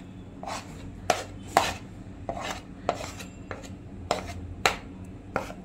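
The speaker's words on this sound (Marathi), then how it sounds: "कोथिंबीरीचे मी आता बारीक तुकडे करते" Coriander leaves being finely chopped with a knife on a board, about a dozen crisp, close taps in an uneven steady rhythm, quiet and alone with no talking.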